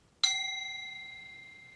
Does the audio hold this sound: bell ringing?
yes